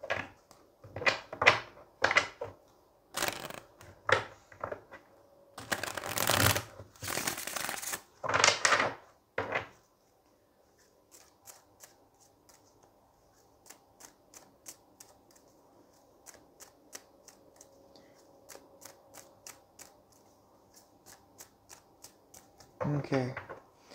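Tarot cards are shuffled and drawn from the deck, with loud riffling bursts and sharp card slaps in the first ten seconds, then quieter handling and faint clicks under soft background noise, ending with another brief shuffle.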